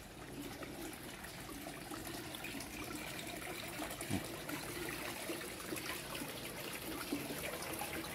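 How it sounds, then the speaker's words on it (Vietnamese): Water trickling steadily over fitted stone slabs in a garden water feature at a wooden house, a faint, continuous babbling wash with no talk. "Nước thì lại chảy ở trong những cái đá kia, những phiến đá ghép này."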